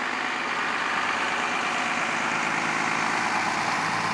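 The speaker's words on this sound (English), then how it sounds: "That's definitely a diesel." A diesel vehicle idles nearby at a school district support services center, giving a continuous, even rumble and clatter with no pauses.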